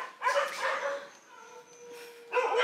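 Shelter dogs stirred up by thunder let out fairly faint, excited bark bursts at the start and end, with whining and whimpering calls in between.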